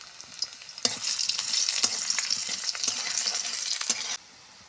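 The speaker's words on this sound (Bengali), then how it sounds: "তারপর দিয়ে দিলাম কেটে রাখা পেঁয়াজ।" Chopped onions dropped into hot oil with whole garam masala, dried red chillies and cumin seeds in a kadai, a loud burst of crackling sizzle with sharp pops, up close, cutting off abruptly.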